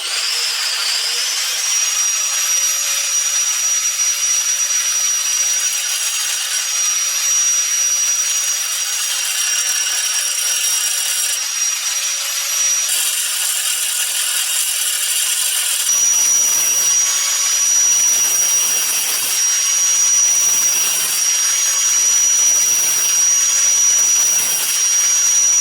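A cutoff wheel grinds steadily through the metal of an abandoned Tri-Five Chevy, a loud, continuous high-pitched whine with harsh rasp that runs without a break for about 25 seconds.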